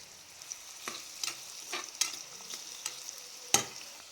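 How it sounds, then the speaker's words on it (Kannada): Onions frying in a little hot oil for chicken keema gravy, a faint low sizzle broken by a few sharp spatula clicks and scrapes against the pan, close by and fairly quiet. "ಆಯಿಲ್ ಬಿಸಿಯಾದ ನಂತರ ಈರುಳ್ಳಿಯನ್ನು ಸೇರಿಸ್ಕೊಳ್ತಾ ಇದ್ದೀನಿ ಈರುಳ್ಳಿ ಸಾಫ್ಟ್ ಆಗೋವರೆಗೂ ಫ್ರೈ ಮಾಡಬೇಕು"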